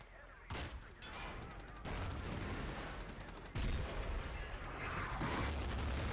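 Artillery shells slam down on a construction site in a Battlefield 2 Conquest league match, heavy low booms hitting several times and rumbling on under continuous battle noise.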